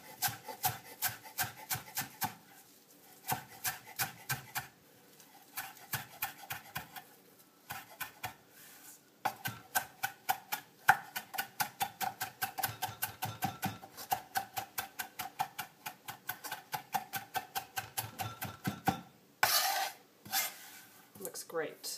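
Parsley wadded into a ball is chopped with a knife on a board, giving rapid rhythmic chops in bursts with brief pauses, close and moderately loud.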